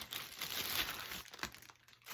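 Soft crinkling of a plastic bag holding a crochet hook, quiet and close, rustling continuously then in a few short crackly handfuls.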